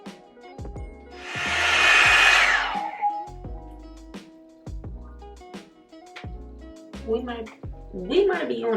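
A TYMO Volumizer hot air brush on its low heat setting gives a close, rushing blow of air for about two seconds, then cuts off, followed by sharp clicks and handling knocks and a few brief vocal sounds.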